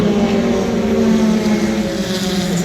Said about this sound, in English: The cars that you hear are some of the Porsches out on the track right now